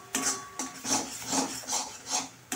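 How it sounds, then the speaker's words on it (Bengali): Dough of flour and water being stirred in a pan for a Bengali dhokar dalna, a rhythmic scraping rasp repeating about every half second, close and fairly quiet with no talk. "জলটা দিয়ে ভালো করে নাড়াচাড়া করতে করতে দেখবেন"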